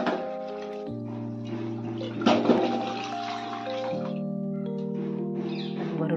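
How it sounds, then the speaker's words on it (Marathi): Hot water pours into cooked mutton curry masala simmering in released oil, a brief splashing rush over a steady bed of sustained tonal music. "वरून टाकू आपण गरम पाणी"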